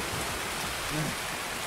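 Heavy in-game rain in Escape from Tarkov falls as a dense, even hiss. It is steady and soft, with no other distinct sounds.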